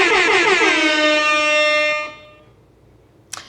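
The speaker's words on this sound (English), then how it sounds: "No, it's air horn." A loud air horn sound effect blares in one sustained, brassy blast lasting about two seconds, then cuts off and fades, followed by a brief click near the end.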